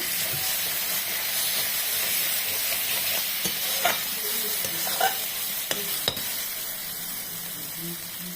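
Meat sautéing in oil with Kashmiri chili for a Bengali curry gives a loud, continuous sizzle and hiss, broken by a few sharp clicks and scrapes of stirring near the end.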